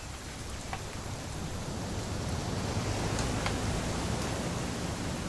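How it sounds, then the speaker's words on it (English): Steady rain falls in the video game What Remains of Edith Finch, a dense, even hiss of drops that swells slightly louder toward the end, with no voices. "It's gonna rain the whole weekend, isn't it?"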